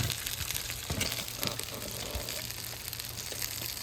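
Fish sizzling over hot charcoal briquettes on a grill, a steady broadband frying hiss with crackles, close and continuous with no talk.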